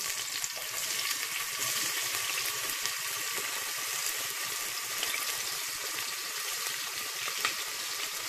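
Onions hit hot olive oil and fry with a loud, dense, continuous sizzle that stays steady the whole time, with no voices.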